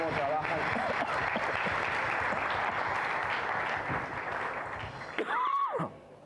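A church congregation applauds the team, steady dense clapping filling the room before fading, with a voice rising over it near the end.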